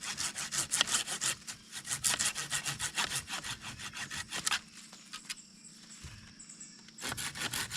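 Branches being sawn off a wooden bow stave with a hand saw: quick rhythmic rasping strokes, close and loud, then a brief pause and a few final strokes, with no talking.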